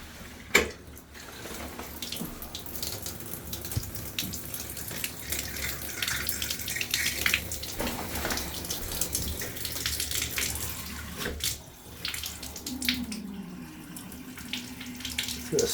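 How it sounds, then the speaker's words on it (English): Water runs from a shower with weak pressure, a steady hiss punctuated by splashes and a loud knock near the start, fairly close, with a squeak of the handle late on. "Well, it doesn't look like much water pressure."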